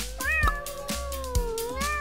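A small kitten gives a continuous, wavering meow, rising and falling in pitch, close and fairly loud, with a few soft thumps beneath it.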